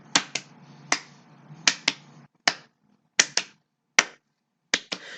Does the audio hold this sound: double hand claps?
yes